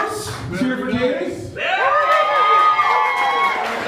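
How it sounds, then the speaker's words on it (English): Roast audience cheers loudly for a staff member, a burst of whoops, shouts and clapping that rises around halfway through and stays full and close after someone speaks over laughter. "Cheer for Katie."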